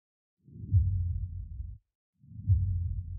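Soloed deep bass sub punch from a cinematic trailer mix: two heavy low booms, each with a sharp attack and a rumbling tail lasting about a second, separated by a short silence, with nothing else heard.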